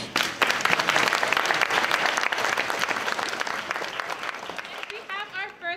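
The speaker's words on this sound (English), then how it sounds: "Let's give them a round of applause." Enthusiastic audience clapping at an elementary school concert, dense and lively from the start, tapering off near the end as a voice emerges.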